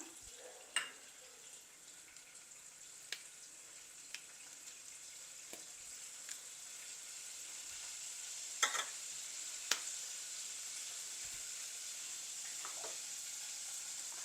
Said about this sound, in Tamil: இப்போ இஞ்சி பூண்டு பேஸ்ட் சேர்க்குறேன் அடுப்பையும் ஆன் பண்ணுறேன்